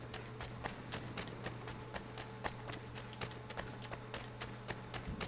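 Horse hooves in Assassin's Creed 3, a steady rapid clip-clop of galloping over ground, even and continuous, fairly quiet under faint game ambience with no talking.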